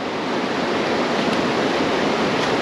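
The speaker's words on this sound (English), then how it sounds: "Wash it down a bit with water." Water rushes steadily over a gold pan being rinsed during prospecting, making a dense, even hiss that stays loud and unbroken from start to finish.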